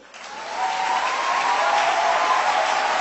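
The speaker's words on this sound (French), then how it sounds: "Ah, acclamez Dieu." A church congregation breaks into loud, sustained applause in acclaim of God, a dense wash of clapping that swells within the first half second and holds steady.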